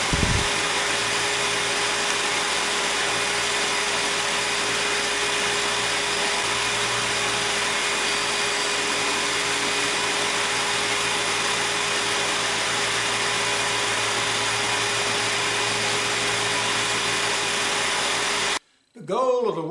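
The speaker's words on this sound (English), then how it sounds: "The goal of the work in the cabinet grinder is to remove a lot of excess wood from this grip" A grinder inside a converted Harbor Freight blast cabinet strips excess wood from a paring knife grip, a loud, unbroken roaring whine lasting many seconds before cutting off abruptly near the end.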